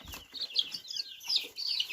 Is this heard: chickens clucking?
yes